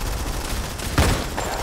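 Rapid gunfire in the mobile shooter Modern Combat 5, a loud continuous burst of shots with one heavier thumping impact near the middle.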